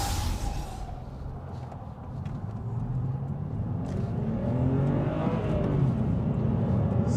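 A BMW E82 125i M Sport with a 3.0-litre engine accelerates hard from a launch in first gear with traction control off, a steady loud engine note rising in pitch and building in intensity.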